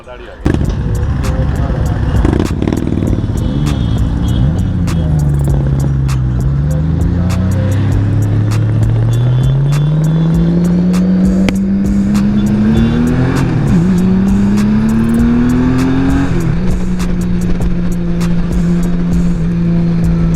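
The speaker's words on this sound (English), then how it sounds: "So that's Push on his S1000RR. He's leading the pack today." A motorcycle engine drones steadily throughout, its pitch slowly sliding and rising as a group of superbikes including a BMW S1000RR rides together on a Delhi Sunday outing, with wind noise over the engine.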